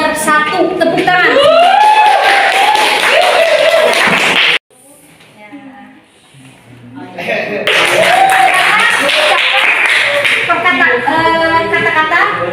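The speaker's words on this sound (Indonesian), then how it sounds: "Tepuk tangan." Classroom applause after a student election vote count at a school, loud bursts of clapping with cheering voices, dropping away briefly in the middle before resuming strongly.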